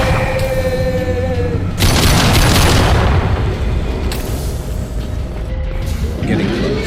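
Grenade explosion in Mass Effect 2 combat, a heavy booming blast bursting in with a broad roar that slowly decays amid ongoing rumbling battle noise and faint mechanical whines.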